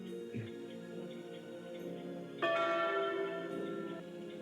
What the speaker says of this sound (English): Then do the tee-hee time bell.